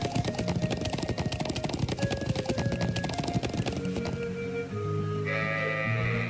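A horse is ridden in Trails of Cold Steel while herding sheep, its hooves clip-clopping in a fast, steady rhythm over a musical backdrop, with sheep bleating mid-way and more sustained bleats near the end.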